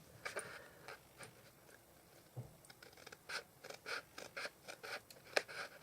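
Scissors snip through a paper pocket on a stamped Santa's workshop treat holder, a run of quiet, close crisp cuts that quicken toward the end with no talk.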